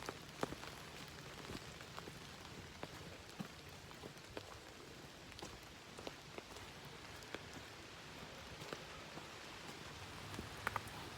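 Steady, soft rain patters on surfaces on a rainy day, a faint continuous hiss scattered with small drop ticks and no voices.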